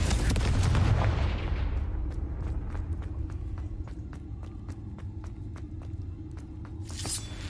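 Confringo fire spell blast in Hogwarts Legacy, opening with a loud booming explosion that decays into a rumble, followed by a rapid string of regular footsteps and a final whoosh.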